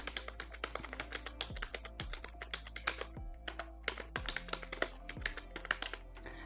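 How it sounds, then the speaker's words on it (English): Steady typing of text on a computer keyboard, a close, brisk run of crisp key clicks with a few slightly heavier taps, continuing without pause and with no talking. "Let's say this is the text that I want to type."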